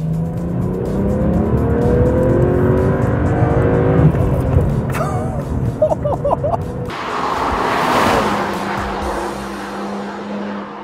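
A BMW 1 Series M Coupe engine revs hard and loud, exhaust note rising and falling through several bursts, with a brief squeal and a roaring pass near the end.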